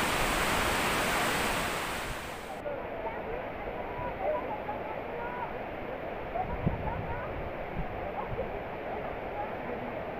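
Tumpak Sewu waterfall in Pronojiwo, Lumajang, heard from the very bottom of the falls: a steady, dense roar of rushing water that fills the whole clip without a break.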